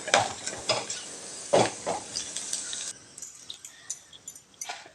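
Ingredients for dried fish chutney (karuvadu thuvaiyal) roast and sizzle in a pan while a utensil scrapes and stirs in a few brisk bursts, then the frying quiets to a softer crackle.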